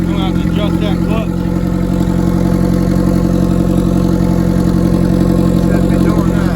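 A turbocharged Hyundai engine runs loud and steady nearby, a continuous droning hum with a rattly mechanical clutch noise mixed in, and a voice talking over it.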